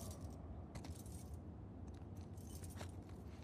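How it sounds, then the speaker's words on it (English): Metal keys jangle and clink in The Last of Us 2 while a character tries several keys in a lock, a steady rattling close by that runs through the whole moment over faint game ambience. "Wanna try those keys?"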